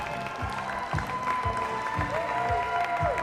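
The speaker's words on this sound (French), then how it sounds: "Vous pouvez encore les applaudir très très fort." Sustained applause from a crowd at the Eloquentia Bordeaux speech contest final, steady and fairly dense throughout, with some musical or voice tones running underneath.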